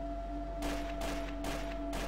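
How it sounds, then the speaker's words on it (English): Gunfire in the game Trouble in Terrorist Town, three bursts of rapid shots spaced about half a second apart, fairly faint against a steady background hum. "That's just me shooting randomly."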